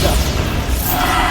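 A Bombarda blasting-spell explosion in the Hogwarts Legacy video game, a loud, dense burst of rumbling noise that fills the whole short moment without a clear break.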